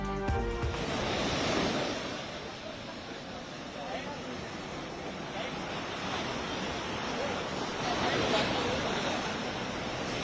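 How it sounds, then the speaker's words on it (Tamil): Rough sea surf pounds the coast at Srinivasapuram, Pattinapakkam in Chennai, a steady loud roar of breaking waves with wind noise, while a news voice talks over it. "சென்னை பட்டினம்பாக்கம் சீனிவாசபுரத்தில் கடல் சீற்றம்."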